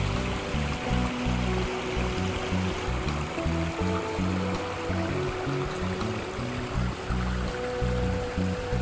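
A waterfall and stream at Carrington Falls in New South Wales pour in a steady, dense rush of flowing water, constant and full throughout with no voices.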